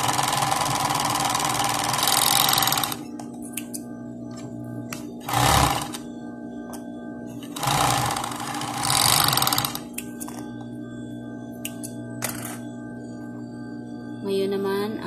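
A sewing machine stitches dri-fit shorts with a double seam, running in loud, close bursts of rapid mechanical whirring separated by quieter pauses and occasional clicks, with no talk.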